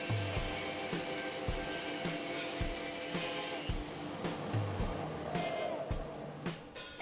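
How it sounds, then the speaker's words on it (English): Timber feeds through a thicknesser machine with the feed rollers engaged, producing a continuous mechanical drone with repeated clunks and knocks throughout. "Power on the machine and pass the timber through the thicknesser."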